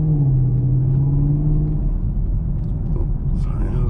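A Chevrolet Camaro SS V8 pulls hard from inside the cabin, a deep droning engine note rising then settling into a broad rumble with road noise, loud and steady throughout.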